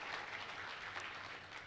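Congregation clapping in a church service, a dense, steady burst of applause at moderate distance, brief and unbroken with no voices over it.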